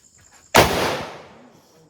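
A single sharp firecracker bang from Vishu festival celebrations bursts out loud and close, then its crackling echo fades away over about a second.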